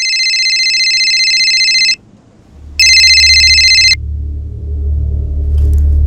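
An electronic phone ringtone plays in two loud bursts with a short pause between them, then gives way to low rumbling background noise.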